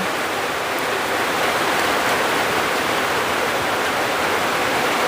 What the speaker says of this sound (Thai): โอ้โหฝนก็มาแล้ว มาแล้วฝน